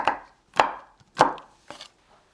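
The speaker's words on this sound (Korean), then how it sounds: "땅콩을요, 그냥 넣는 게 아니고요. 칼로 그냥 듬성듬성 잘라주세요." A knife roughly chops peanuts with four crisp, evenly spaced strikes, close and clear, with no one talking.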